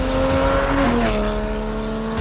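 A Porsche 911 sports car engine rumbles and revs nearby, its pitch rising then settling into a steady droning exhaust note.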